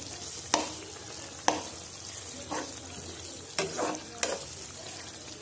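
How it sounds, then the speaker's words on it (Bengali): Spoon scraping and stirring through koi fish do pyaza curry in a pan as chopped coriander is mixed in, a few distinct scrapes spaced over a soft steady sizzle. "ধনেপাতাটা আমি একটু এর সাথে মিশিয়ে দেব।"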